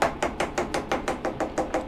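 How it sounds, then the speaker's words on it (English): A hammer taps machined parts down against parallels in a milling vise, with ten sharp, evenly spaced metallic blows in quick succession, close and loud. "So I'm gonna hammer everything down"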